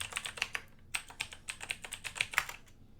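Fingers type default login credentials on a computer keyboard in a quick, close run of crisp key clicks with a short pause after the first few strokes.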